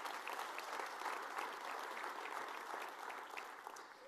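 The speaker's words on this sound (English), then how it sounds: "you can give him a clap" Audience applause at a mayor's state of the city address, a soft, even patter of many hands clapping, fairly distant and sustained throughout before easing slightly at the end.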